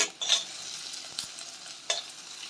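Ginger, garlic and onion sizzle softly in a pan while a spoon stirs them, with a few brief scraping knocks over a steady quiet frying hiss.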